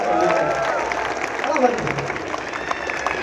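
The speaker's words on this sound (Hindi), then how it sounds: "एक बार जोरदार तालियां बजा दीजिए सर के लिए।" Applause from an audience at a poetry recital at NIT Jalandhar, a steady broadband wash of many hands clapping from start to end with a voice speaking over part of it.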